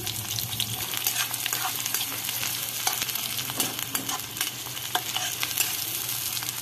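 Chopped onions fry in hot oil in a wok, a steady close sizzle with frequent stirring scrapes and clinks running throughout, no voices.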